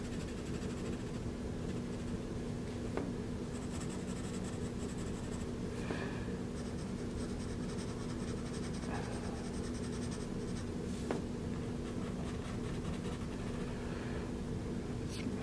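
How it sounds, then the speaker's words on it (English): Pencil graphite scratches across paper in quick, close strokes while a drawing is being shaded, a continuous dry rasp over a faint steady hum, with no speech. "Draw the shadow."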